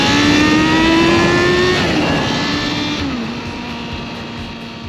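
A 1980s Suzuki Impulse GSX400X motorcycle engine revs high and steady close by, holding a strong sustained whine before the pitch dips and the sound fades slightly, with no voices.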